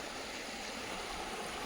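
A river stream on the trail near Lonavala, on the way to a waterfall, gives a steady, even rush of flowing water, close and constant, with no talk.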